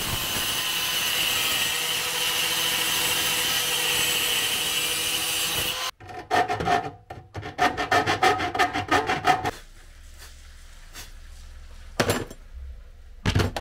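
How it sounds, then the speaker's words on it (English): A Harbor Freight grinder cuts metal trim on a pet door: a steady loud whine for several seconds, then a series of short bursts of grinding and rasping with pauses between. "In comes the trusty Harbor Freight grinder."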